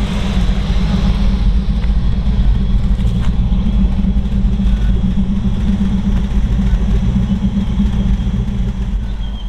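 A 1957 Chevrolet Corvette resto-mod with a tuned port EFI V8 and 4-speed manual idles steadily up close, a loud, constant low rumble with no pauses.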